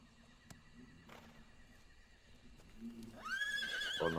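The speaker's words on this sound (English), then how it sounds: "¿Será que ese caballo es para mí?" A horse in Metal Gear Solid Delta: Snake Eater neighs, a rising, quavering whinny that swells loudly at the end after a quieter stretch of faint thuds and ambience.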